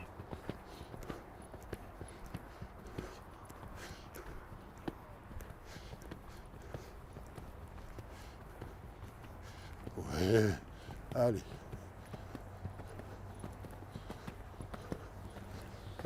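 A horse being ridden during a coaching session, its hooves clip-clopping softly in a steady walking rhythm, with two louder thuds near the end and a rider speaking briefly over them.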